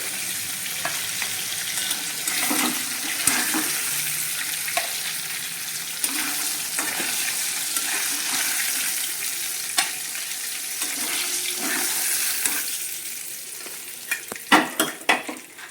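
Hilsa fish pieces fry in mustard oil in a pan, giving a dense ongoing sizzle broken by scattered clinks and scrapes of stirring and turning, loudest toward the end, with no speech.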